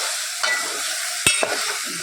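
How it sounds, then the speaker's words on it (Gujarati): Kane jeera bhaji greens stirred in a pan for a Kathiyawadi recipe, with close scraping strokes and soft clacks of the spoon over a steady sizzle. "આપણે હલાવી નાખીએ."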